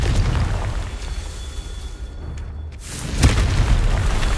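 The Confringo spell blasts rocks in the video game Hogwarts Legacy. A single loud, sharp explosion bursts out over dense, roaring game noise, then fades into rumble.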